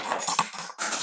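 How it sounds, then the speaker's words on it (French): A pair of scissors dropped onto a hard surface, giving a short bright metallic clatter near the end of a quiet second of small clinks. "J'ai fait tomber ma paire de ciseaux"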